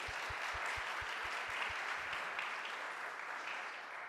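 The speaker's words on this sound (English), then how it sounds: "So a warm, big applause for them as the whole team." Audience applause at a conference closing session with a flag handover, a dense, steady clapping from a large crowd, loud and continuous across the whole stretch with a few distinct claps at the start.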